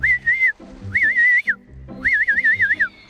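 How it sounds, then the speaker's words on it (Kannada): A cartoon character whistles a wavering tune in three bursts, loud and close, as if shivering from the cold, with short pauses between the phrases. "ಚಳಿಯಿಂದಾಗಿ ಸೀಟಿ ಬರ್ತಿದೆ"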